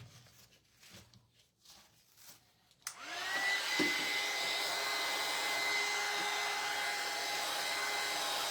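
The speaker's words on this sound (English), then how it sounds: "We'll put the heat gun on it for a minute." A heat gun starts with a click and runs as a steady loud blowing whoosh while drying a wooden advent calendar, following a few seconds of quiet handling noise.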